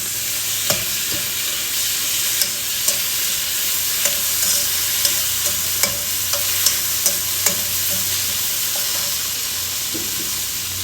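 Tomatoes sizzle in a hot pan with a continuous bright frying hiss. A spoon or spatula stirs them in a series of regular light scraping taps, close and clear, with no talking.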